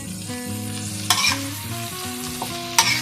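Vegetables and fresh chili stir-fry with oyster sauce in a hot pan, giving a loud, steady sizzle with scraping stirs and two sharp clatters of the utensil.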